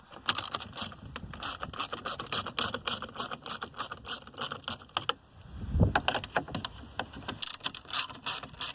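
A 7mm ratchet on an extension spins out instrument cluster bolts in a 2005-2009 Ford Mustang dashboard, rapid close clicking in bursts with a brief thump partway through.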